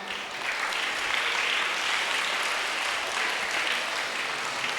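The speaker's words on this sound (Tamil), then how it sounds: "எல்லோரும் நன்னும் நல்லா கைத்தட்டுங்க எல்லாரும்" A school audience at a primary school's annual day celebration applauds the teachers with dense, steady clapping from many hands, sustained and even throughout with no speech.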